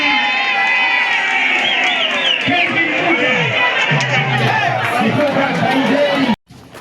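An audience at a talent competition at Maseno cheers and shouts loudly in a dense, continuous roar of voices, with excited children's shouts rising through it before a sudden stop.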